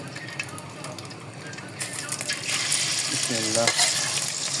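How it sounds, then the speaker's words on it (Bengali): Egg frying in hot oil in a pan: a steady, fairly close sizzle that swells louder as the egg goes in, with a few faint clinks along the way. "তেলটা গরম হয়েছে কি না দেখেন দেওয়া শুরু হলো এখন ডিম"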